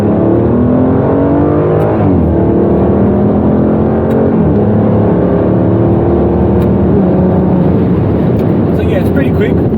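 An Aston Martin DB9 with a V12 engine accelerates hard in manual sport mode, its loud, close engine note rising in pitch and dropping with each upshift through several gears, with cabin wind noise throughout.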